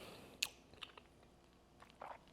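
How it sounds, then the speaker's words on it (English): Close, quiet chewing of meal-prepped chicken cooked on a Blackstone griddle, with a crunchy outer layer; a few sharp crunches and soft bites spaced across a couple of seconds, with no talking. "I'm gonna bite into a bigger piece so you can see"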